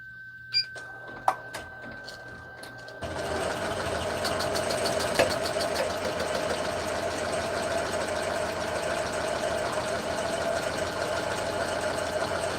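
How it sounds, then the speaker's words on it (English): A sewing machine stitching a purse: a few sharp clicks and handling sounds, then the motor starts and runs in a steady mechanical whir with rapid needle chatter until the end. "now we're going to basically stitch this down into place"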